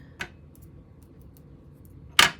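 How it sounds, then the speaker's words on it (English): Two sharp glass-on-glass clinks while assembling a papercraft card kit, a small one near the start and a louder, brighter one near the end, with quiet room background between. "I know that's really noisy. Glass against glass."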